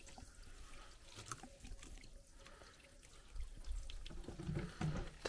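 Mountain water from about 700 metres up in Portugal runs and splashes close by, a continuous babbling trickle that grows louder and busier in the last seconds.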